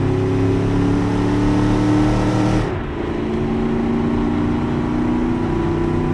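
A 1960s-style muscle car engine in the game Automation revs hard and steadily, loud and close, then the pitch drops briefly as it shifts and climbs again into a sustained roar.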